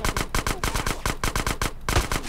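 Rapid bursts of automatic gunfire from GTA San Andreas, a loud, close rattle of evenly spaced shots with a brief pause before the firing resumes.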